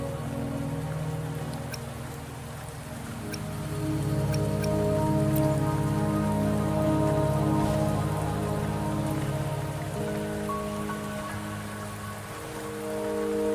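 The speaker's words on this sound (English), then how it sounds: "Don't worry, the rain won't last much longer." Steady rain falls on surfaces in the video game Wuthering Waves, a dense continuous patter with scattered drips, swelling slightly in the middle and carrying on without speech.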